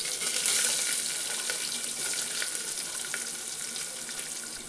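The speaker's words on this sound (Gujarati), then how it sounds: "હવે તેમાં આપણે ડુંગળી નાખી દઈએ।" Chopped onions hit hot oil in a pressure cooker while a masala pulao is being cooked. They give off a steady, bright, hissing sizzle that stays loud and even throughout, with no voices.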